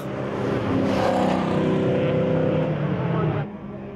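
Race cars led by a BMW of the EMG Racing team roar together at the start of a circuit race at Croix-en-Ternois, a loud sustained engine drone with rising tones that drops off sharply near the end.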